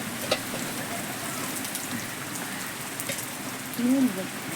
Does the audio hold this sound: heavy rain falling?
yes